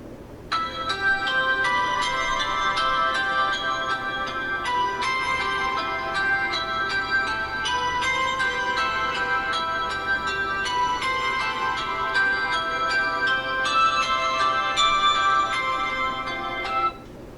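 A preset ringtone on a Samsung Galaxy J3 Orbit phone plays a bright, repeating melodic tone pattern that runs continuously for about seventeen seconds, clean and close with no talking.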